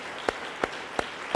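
A church congregation claps in time during a devotional service, four sharp, evenly spaced claps about a third of a second apart, with no talking.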